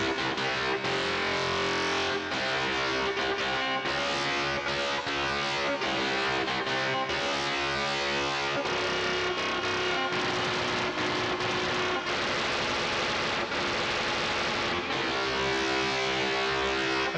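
Dense, heavily distorted chords tuned in magic temperament ring out loud and continuous, with gritty sustained tones and occasional chord changes.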